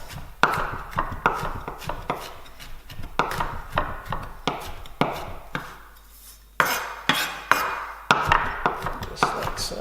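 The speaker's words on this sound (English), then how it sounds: "Now it doesn't have to be perfect, just roughly cut is fine. Just a rough chop." A kitchen knife strikes a cutting board again and again while someone roughly chops food, the close, uneven knocks arriving in irregular bursts with short pauses between them.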